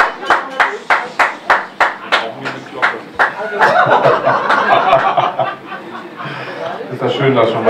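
Scattered audience clapping at a charity event in the Kleine Philharmonie Berlin, a series of sharp, separate hand claps that build into fuller applause, with chuckles and murmured chatter from the crowd mixed in.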